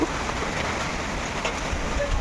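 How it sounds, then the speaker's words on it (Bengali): Rain falls steadily outside, a broad, even hiss of drops on surfaces that carries on unbroken, with a soft gusty rustle and a thud near the end. "বাইরে শুরু হয়েছে বৃষ্টি"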